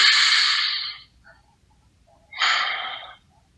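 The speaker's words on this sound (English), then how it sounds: "Take a deep breath." Two long, deep breaths, each drawn in slowly and then released with a soft airy rush, heard close and alone against near silence.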